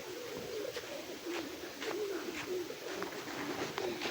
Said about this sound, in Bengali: আমার সুন্দর সুন্দর কবুতর না